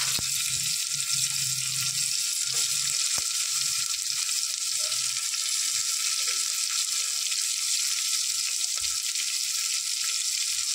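Onion frying in ghee with browned ginger and garlic gives a steady, faint sizzling hiss that runs evenly throughout, with a few soft knocks and low clatters underneath and no voices.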